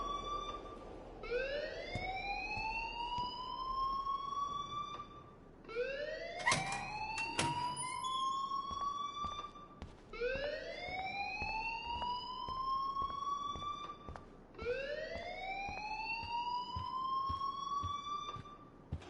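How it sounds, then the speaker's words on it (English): Alarm blaring in the video game Life is Strange, a wailing tone that sweeps upward and repeats in four long, evenly spaced cycles at steady loudness. "please turn off that alarm since that's your job"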